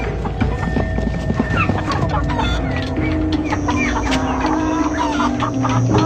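Chickens cluck near an odd-looking coop in a warehouse-like room, with repeated close, busy clucks and squawks over a constant low background noise.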